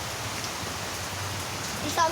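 Steady rain hissing in the Geometry Dash video game, a soft continuous patter of drops with a faint low rumble beneath, alone without a clear break.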